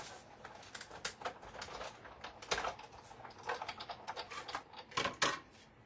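Card stock fed through a die-cutting machine for handmade cards, a series of quick crisp clicks and ticks in an irregular rhythm, close and fairly quiet, with no talking.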